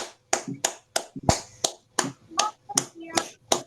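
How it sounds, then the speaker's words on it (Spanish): A small group applauds at a tribute honoring Arnaldo, with sparse, uneven bursts of hand claps and slaps, close and fairly loud, without anyone speaking. "que le demos un aplauso fuerte a Arnaldo"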